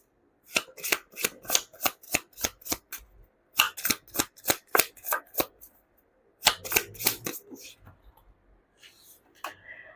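Cards are shuffled up close in quick bursts of crisp riffles and taps, with short pauses between rounds and no talking.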